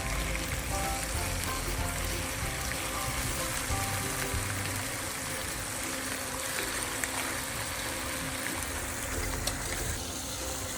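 Bacon frying in a pan, a steady dense crackling sizzle that holds at an even level throughout, with no talking.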